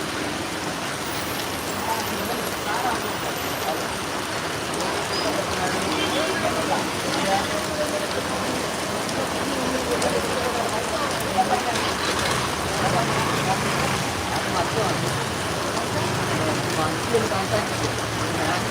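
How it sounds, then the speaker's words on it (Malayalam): Heavy rain drums steadily on a surface, a continuous dense hiss with a faint low rumble beneath it. "ഭയങ്കര മഴയാ"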